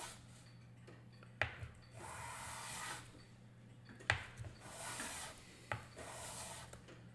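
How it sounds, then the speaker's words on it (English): The wooden underslide of a violin bow frog being filed or sanded down to remove old glue, producing faint, close, rhythmic rubbing strokes at a steady pace with brief sharper scrapes at each stroke. "So I'm going to want to file this or sand it in this direction."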